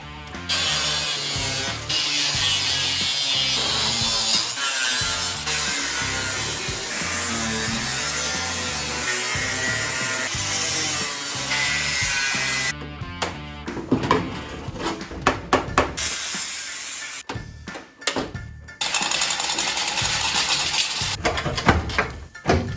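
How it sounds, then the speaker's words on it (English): A power tool cuts and chops through the car body metal of a Lexus GS400 being combined with a Ford Falcon. A loud, steady grinding roar runs for about thirteen seconds, then breaks into choppy, stop-start cutting bursts. "Now time to cut, chop, cut some more."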